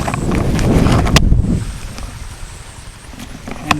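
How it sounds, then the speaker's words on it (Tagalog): Wind gusts across a microphone outdoors near cogon grass, a heavy rumbling buffet that swells for the first second and a half, then eases into a steadier, softer rush. "medyo mahangin dito"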